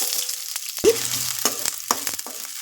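Onions frying in a few spoonfuls of hot oil in a pan, a steady close sizzle broken by a sharp knock and several scraping stirs of a spoon.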